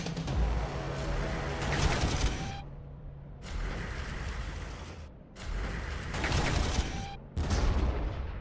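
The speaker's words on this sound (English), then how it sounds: "So those are like extra Earthshaker cannons for us there." Earthshaker cannon artillery in the Warhammer 40000 Armageddon strategy video game fires in repeated heavy booming salvos separated by short silent gaps, loud and without talk.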